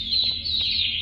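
High, steady bird chirping from the Opila bird in the video game Garten of BanBan 2, a continuous thin tone with a few soft blips, alone and fairly quiet.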